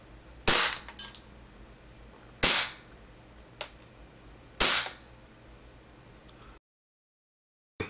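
A WE Big Bird propane airsoft pistol, modeled on a S&W M&P 9mm, fires 0.25 gram BBs in three sharp, loud cracks spaced about two seconds apart, each with brief mechanical clatter, then silence.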